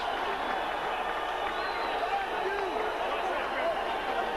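Arena crowd at a boxing match roaring after Vinny Pazienza knocks out Dana Rosenblatt, a steady, distant wash of cheering under continuous commentator speech.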